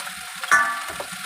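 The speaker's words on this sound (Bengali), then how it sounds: "পেঁয়াজটা মোটামুটি ভাজা হয়ে গেছে, এবার ঢেঁড়সটা কুচিটা দিয়ে দিচ্ছি।" Chopped okra and onion fry in hot oil in a pan, giving a soft, steady sizzle with a brief clatter or stir midway, close and fairly quiet.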